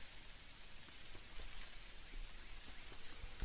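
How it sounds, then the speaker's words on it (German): Steady rain in the video game Dinkum, a soft, even hiss of falling drops with faint patters on surfaces, continuous and quiet throughout, no talking. "Ja, gut, es regnet."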